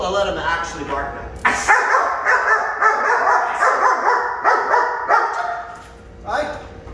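A seven-month-old German Shepherd puppy barks repeatedly in quick, loud bursts close by, with a few yips between them and a voice speaking over part of the clip.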